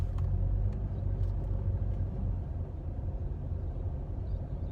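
A car drives past on a city road, a low rumbling swell that is loudest at the start and slowly fades, with faint traffic noise behind it.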